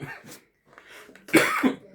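A player at a tongits card game coughs in a short burst near the end, loud and close, after a stretch of quieter speech and noise.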